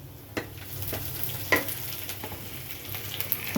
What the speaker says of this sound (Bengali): এটা ভালো করে একটু ভাজা ভাজা করে লই